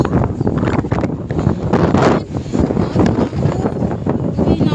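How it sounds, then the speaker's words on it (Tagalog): Strong wind buffets the microphone in loud, rumbling gusts that rise and fall outdoors at Dasma Arena, nearly drowning out everything else. "Ay, ang hangin"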